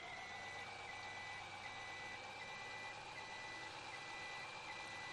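A lifted pickup truck in the Farming Simulator 17 video game backs up slowly, its steady reversing beeps sounding over a constant engine hum and a dense wash of noise.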